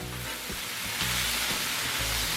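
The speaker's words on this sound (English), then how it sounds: "We're stir frying on the Blackstone." Loud, close sizzling of beef stir-frying on a Blackstone flat-top griddle, with a steady hiss and some low rhythmic knocking throughout.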